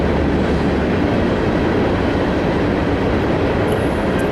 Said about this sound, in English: You can hear the trains behind me.